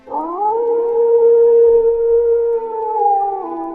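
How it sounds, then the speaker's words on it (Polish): A wolf's howl, one long, loud, sustained, steady-pitched call lasting over three seconds, rising at the start and wavering slightly near the end, heard close and alone. "z groty wyziera groźny wilk."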